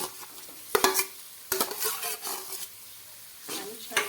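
Mashed potatoes and turmeric are stirred into hot oil for a pani puri filling, giving a few close, loud bursts of spoon scraping with a soft sizzle between them.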